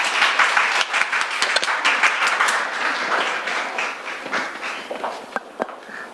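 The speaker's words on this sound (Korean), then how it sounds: "큰 박수 부탁드립니다" Audience applause at a conference opening, a crowd clapping warmly and close, loud at first then thinning out and tapering into scattered claps.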